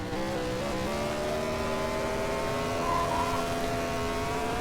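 A car spinning its wheels in the racing game Short Track Showdown gives a continuous, rising engine whine with a steady roar, loud and unbroken, with no talk.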